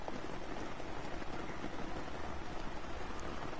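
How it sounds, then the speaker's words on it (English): Rain pouring on a tent, a steady dense patter of drops drumming close overhead, soft and unbroken, alone without talk. "And it sounds like it's raining pretty bad down here."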